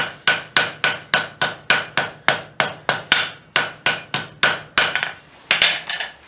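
A hammer forges a hot steel tenon square on an anvil: loud, close, evenly spaced ringing blows, about fifteen in a row, with a brief pause and a few final strikes.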